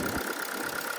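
A 2004 Infiniti G35 RWD engine idles roughly and shakes, a steady close mechanical drone with a faint uneven pulsing and no speech.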